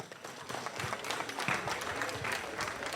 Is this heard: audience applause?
yes